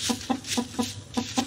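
A bird clucks repeatedly in the video game Crossroads, six short evenly spaced clucks, close and clear, with no other sound.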